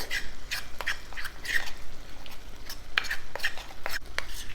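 Brinjal gravy with added turmeric being stirred in a pot, making a run of close wet scraping and clinking spoon strokes in an irregular rhythm, moderately loud, with no voices.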